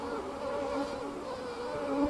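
Bees swarm close around a beekeeper working the hive in a veil without a full suit, a steady, dense buzzing drone that holds at a constant level with slight swells for a couple of seconds, no voices over it.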